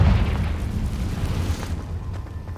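A Confringo blasting spell goes off in Hogwarts Legacy as a loud, booming burst of low rumble. The rumble keeps rolling and slowly fades over a couple of seconds, with no voices.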